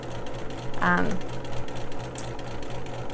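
A sewing machine stitches a quilt block with a fast, steady mechanical whir and rhythmic clatter, running close by while a person talks over it.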